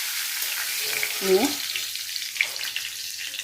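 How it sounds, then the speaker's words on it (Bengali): Cumin seeds, dry red chillies and bay leaves frying in hot oil with a little ajwain, a close, steady sizzle with a brief louder crackle and a word spoken over it. "জিরা ফোড়ন দিলাম, তারপর শুকনো লঙ্কা, তেজপাতা একসাথে দিয়ে হালকা ভেজে নেব"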